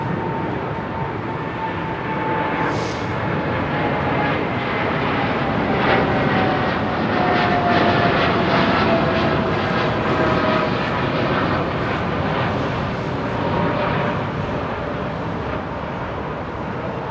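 Airbus A330 heavy jet climbing out from London Heathrow Airport with gear down: a steady, loud, broad engine roar with faint whining tones that holds for the whole stretch without fading.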